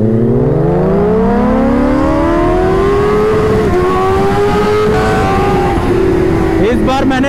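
Kawasaki Ninja H2 and ZX10R superbikes drag racing side by side, a loud rising engine whine climbing steadily through the gears, close and continuous, with faint talk underneath.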